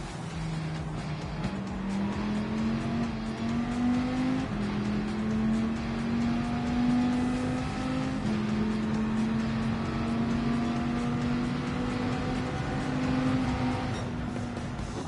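McLaren Group 4 race car driving in a racing video game, a continuous engine note rising and dropping with gear shifts and throttle changes over steady tyre and road noise, sustained and fairly loud throughout.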